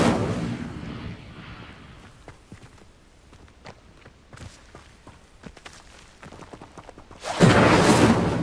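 An Incendio fire spell is cast in Hogwarts Legacy: a sudden loud, roaring burst of flame near the end, after several seconds of quiet scattered clicks and footstep-like taps.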